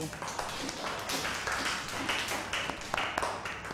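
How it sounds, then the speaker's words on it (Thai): Schoolchildren in a classroom clapping for a classmate: dense, steady applause lasting several seconds, with busy background noise and no clear speech. "อ้าปรบมือให้ เด็กชายป๊อกหน่อย"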